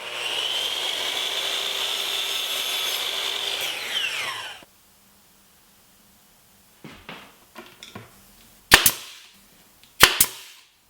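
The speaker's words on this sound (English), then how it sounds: "I'm basically gluing and nailing everything together" A nailer drives nails into half-inch plywood banding glued onto an old plywood shop cabinet, heard as a few sharp, loud shots spread out with pauses between them, following a steady power-tool whir at the start, with no talking.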